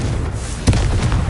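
Confringo fire spell going off in Hogwarts Legacy, a single deep boom bursting in about midway over a steady low rumble of game ambience, loud and close.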